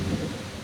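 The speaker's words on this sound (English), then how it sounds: "And then the rains came." Heavy rain and rolling thunder from an El Niño thunderstorm in Peru, a steady deep rumble with dense rain noise filling the whole brief moment, loud and close with no voices.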